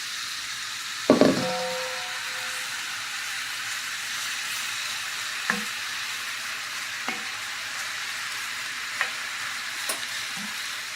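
Apples cook in a hot skillet with a continuous steady sizzle, opened by a loud clatter as they go in, followed by a few sparse light clinks and scrapes.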